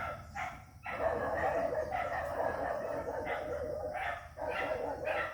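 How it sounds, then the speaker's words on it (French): Several dogs barking loudly in bursts near a house in the Philippines after chasing a cat indoors, with repeated overlapping barks and short pauses between volleys. "Les chiens ont courroyé le chat qui est rentré dans la maison."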